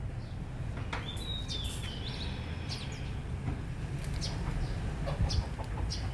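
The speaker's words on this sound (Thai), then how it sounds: "มาดูไก่นะคะ ไก่กุ๊กกุ๊กไก่กิ๊กกิ๊ก" Hens cluck and chirp in short bursts over a steady low rumble of outdoor background noise, with no talking.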